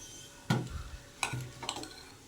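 A metal lid lifted off a pot of boiled shyama rice, giving a sharp clank followed by a couple of lighter knocks and rattles, close and fairly faint, with no talking.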